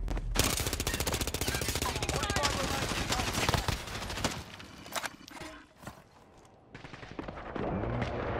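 Submachine gun fire in a video game rattles out in long, rapid bursts, loud and close, broken by short pauses before the shooting resumes.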